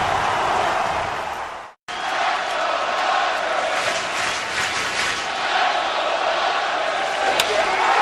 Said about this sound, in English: And this crowd is going crazy, as you would expect.